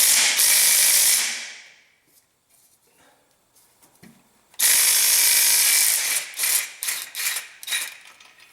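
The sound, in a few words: loosening starter motor bolts on a Hyundai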